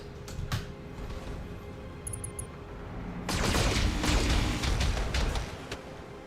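Large pulse laser in the BattleTech game fires in a rapid burst of crackling bursts, loud and dense, preceded by scattered clicks and quieter combat noise.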